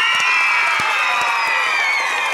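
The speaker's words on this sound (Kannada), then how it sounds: "ಧನ್ಯವಾದಗಳೊಂದಿಗೆ ಜೋರು ಚಪ್ಪಾಳೆ." A school audience at a teachers' felicitation event in Challakere taluk breaks into loud, dense applause mixed with cheering. The clapping is sustained and close throughout.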